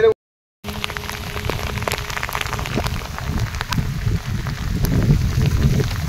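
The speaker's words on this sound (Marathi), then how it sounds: "लय जोरात पाऊस आलाय" Heavy rain pours steadily on a roadside stop during a long motorcycle pilgrimage ride on a Passion Pro, a dense continuous hiss with scattered drops after a brief silent gap, building slightly louder toward the end.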